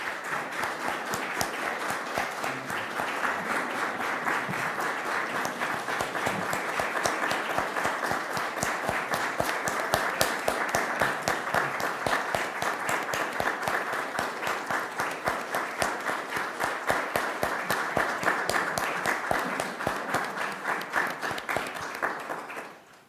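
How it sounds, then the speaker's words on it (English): Standing ovation at an investiture ceremony for the Order of Newfoundland and Labrador, a dense, sustained crowd applause that holds steady for over twenty seconds before fading at the end. "And you're getting a standing ovation."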